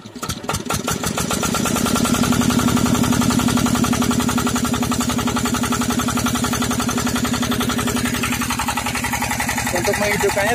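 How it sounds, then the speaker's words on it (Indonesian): A diesel engine on a chili drip-irrigation setup cranks with a rapid chugging and catches, then settles into a steady, loud knocking idle that runs close by for about ten seconds. "sekarang kita akan coba ngidupin mesin diesel ini"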